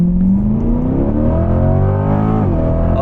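A C8 Corvette on drag radials launches hard, its engine note rising steadily as it accelerates, then dropping briefly at a gear shift before climbing again, loud and close with no talk.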